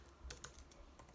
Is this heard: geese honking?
no